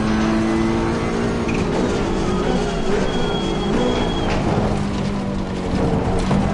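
Ferrari Challenge race car engine in Assetto Corsa Competizione at Imola, a steady loud drone with rising and falling pitch as the car is driven hard, continuous throughout with no speech.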